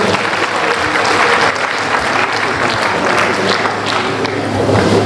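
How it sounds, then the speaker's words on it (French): Steady, loud applause from a conference audience honouring a dean, a continuous dense roar of many hands clapping with no pause for the full few seconds. "Encore une salle d'applaudissements pour notre doyen Castro"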